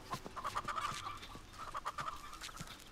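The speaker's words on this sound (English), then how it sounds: "you're just playing with the chickens" Faint, soft clucking from chickens in the video game Texas Chain Saw Massacre, a few short bursts of murmuring clucks with quiet gaps between them.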